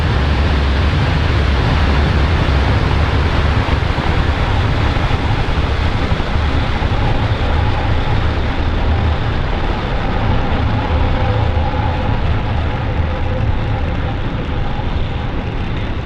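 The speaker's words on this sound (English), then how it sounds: "Engines full power and ignition. Lift off of Falcon 9." SpaceX Falcon 9 rocket engines thunder at liftoff, a loud, continuous broadband roar with heavy low rumble that holds steady throughout, crackling slightly as it goes.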